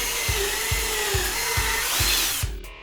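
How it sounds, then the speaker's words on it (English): A power drill bores a 1/4 inch hole into a ceiling rail for a faux wood beam install, a steady loud whine punctuated by about six rhythmic low thumps, ending abruptly near the close. "Then drill a 1/4 inch hole on the marked spots."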